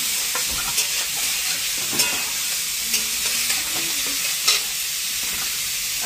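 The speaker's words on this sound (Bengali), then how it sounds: "আর আমি এটা ভাজছি।" Food frying and being stirred in a kadai: a steady close sizzle with scraping stir strokes at irregular intervals, moderately loud and free of talk.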